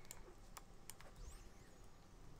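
A computer keyboard is typed on in a few sparse, close, sharp clicks over a quiet background, with no talking.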